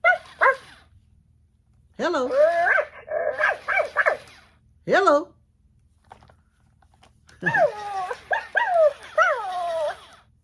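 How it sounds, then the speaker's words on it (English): A motion-activated toy dog gives a series of short electronic barks and yips in bursts, close and fairly loud, with a person briefly saying a word between them. "He barks."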